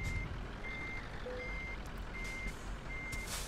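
Scania recovery truck reversing in Euro Truck Simulator 2, a steady series of five evenly spaced electronic beeps, moderately loud over low engine hum.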